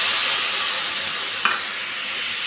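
Soaked mixed spice paste frying in a pan with onion and green chilli for a magur fish curry, a steady loud sizzle with one brief stir knock midway, no voices.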